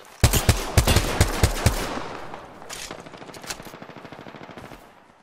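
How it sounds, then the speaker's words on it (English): Gunfire in Apex Legends: a loud close burst of rapid automatic shots, followed by quieter, more distant rattling volleys that trail off. "I hear more gunshots."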